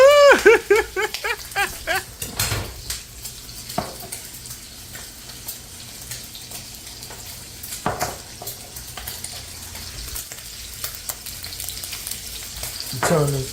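Bacon crackles and sizzles in a frying pan as scattered pops and ticks over a faint hiss, with louder clatter and stirring at the start and end and no talking.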